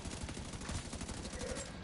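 An automated turret in The Division 2 fires rapid, evenly spaced bursts of gunfire, steady and fairly quiet at a moderate distance.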